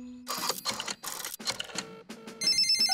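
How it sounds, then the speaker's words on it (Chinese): Telephone ringing in a Peppa Pig cartoon, a repeated electronic ring in short bursts with a steady warbling tone toward the end, loud and alone without talk. "这里是狗爷爷的维修服务电话"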